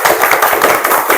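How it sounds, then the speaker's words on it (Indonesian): Classroom students clap their hands together in a short, loud burst of uneven claps, close by, to cheer on a presenting group. "Erlangga bersama Kopipah, tepuk tangan dulu biar semangat"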